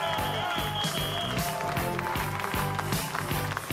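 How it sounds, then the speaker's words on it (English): Applause and crowd noise at a live reggae concert, greeting the horn section, blended with a steady band groove that keeps pulsing throughout; the crowd sounds moderately distant under the loud music. "Round of applause for the horn section."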